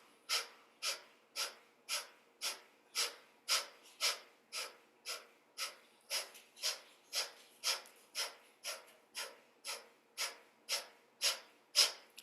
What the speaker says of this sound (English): Pumping that belly in, inhale, exhale, exhale,